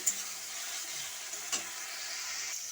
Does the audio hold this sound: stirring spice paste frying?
yes